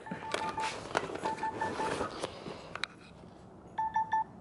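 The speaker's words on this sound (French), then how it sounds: "ça c'est mon téléphone qui me dit que c'est l'heure de partir à l'école" A mobile phone alarm tone goes off indoors as a reminder to leave for school, repeating short beeping bursts in a few groups, with faint household clatter around it.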